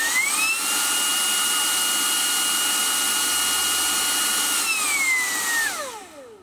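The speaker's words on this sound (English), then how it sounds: "I've got my Hoover here. Pop it in there like that." Cordless Vax ONEPWR Blade 4 stick vacuum powered by a repaired 4.0Ah battery whines up to a loud, steady high-pitched motor hum, runs for about five seconds, then spins down with a falling whine, heard alone without talk.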